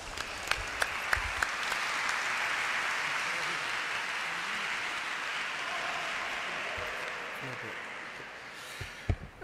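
Steady, dense audience applause at an art exhibition presentation, with a few sharper individual claps standing out near the start and end and faint voices underneath.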